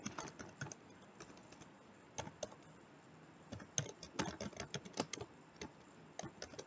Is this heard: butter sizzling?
no